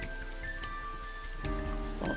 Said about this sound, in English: Parasol is getting pelted by the rain.